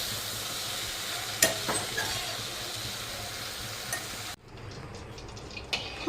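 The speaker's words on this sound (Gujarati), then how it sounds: "તેલમાં મસાલો ચોટે ને હા ત્યાં સુધી રેવા દેવાનું" Masala and vegetables for a curry sizzling in hot oil in a pot, a steady frying hiss with faint stirring clinks near the start that drops quieter toward the end.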